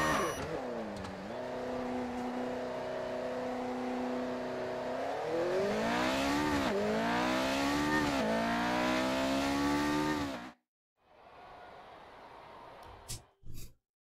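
Formula 1 car in F1 2019 spinning a donut: a loud, high-revving engine whine that rises and dips through the spin, with tire scrubbing, then cuts off abruptly before faint residual noise.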